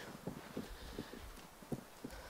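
A horse trotting in a wide circle on a long lunge line, its hooves clip-clopping in a steady two-beat rhythm of soft, fairly close thuds over low background noise.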